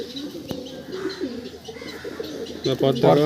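Pakistani teddy pigeons coo softly in a loft, low murmuring calls repeating under a voice, with a couple of louder coos near the end.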